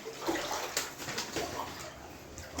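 Rainwater streams and splashes steadily as it floods into a house at night, a continuous wash of flowing runoff with occasional louder spatters.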